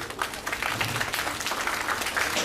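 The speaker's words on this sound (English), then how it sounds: "they deserve a big round of applause" Audience clapping for student organizers at a university entrepreneurship sharing session, a dense, steady round of applause from a roomful of people.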